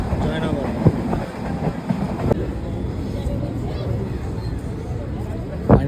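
Passenger train pulling into Jaynagar station, a rumbling carriage drone with clanking and rattling wheels throughout, heard from inside the train under scattered voices.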